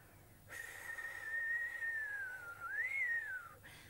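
A single whistled tone drifts slowly downward, then swoops up and down again, a breathy whistle imitating wind through trees over faint background hiss.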